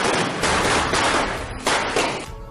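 Dense, rapid crackling bursts of firecrackers going off in a continuous barrage, loud and close, tailing off near the end.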